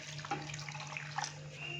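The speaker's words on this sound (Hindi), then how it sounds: "अभी हम इसके अंदर पानी डालेंगे।" A brief, soft trickle of water pouring into a cooking pot of fried beef nalli biryani, faint and close, over a steady low hum.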